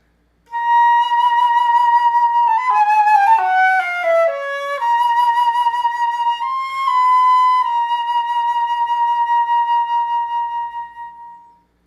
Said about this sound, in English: And then I have a middle register that sounds like this.